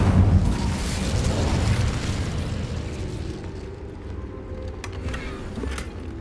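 The Incendio fire spell in the Hogwarts Legacy video game, a loud roaring burst of flame that rumbles and slowly fades, with a few sharp crackles near the end.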